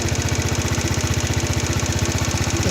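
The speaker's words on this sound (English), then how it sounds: "under that lovely smooth running engine." Chinese four-stroke 139QMB carburettor engine idling smoothly, a steady, even rapid putter that runs loud and close throughout with no voices.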